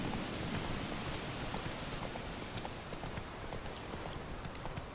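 Steady clip-clop of horse hooves trotting in the video game The Witcher 3, a rapid regular rhythm over a dense background wash, moderately close.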